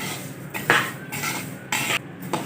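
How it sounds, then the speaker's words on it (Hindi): Flax seeds are stirred and roasted with a metal spoon in a kadai, giving repeated scraping, clinking strokes against the pan at close range, with no talk. "कढ़ाई में अलसी ऐड करेंगे। चम्मच चलाते हुए अलसी को अच्छी तरह से भून लेंगे।"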